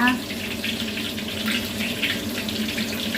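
A tap runs steadily into a sink while tilapia fish is washed, giving a continuous close splashing rush with small shifts in the flow. A faint voice can be heard under the water.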